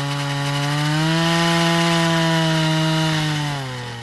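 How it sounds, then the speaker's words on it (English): A water-cooled drill bores into the rock of the Palisades, giving a loud, steady, close motor whine that holds a constant pitch and then sags slightly as it winds down. "they bore into the rock with a water-cooled drill"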